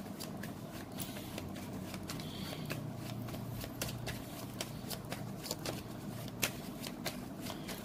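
Tarot cards shuffled by hand without a break, a dense, quiet stream of close riffling and slipping card sounds with small taps, and no speech.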